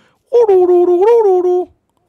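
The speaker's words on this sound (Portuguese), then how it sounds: "Ah, é o, é o, é o maldito Peru!" A gobbler turkey from the game Don't Starve gives a single loud, close, wavering tonal call lasting just over a second, rising and falling in pitch before cutting off into silence.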